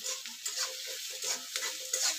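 Onion frying lightly in a pan for spiced vermicelli, a steady soft sizzle with faint stirring scrapes, close and fairly quiet, with no voices.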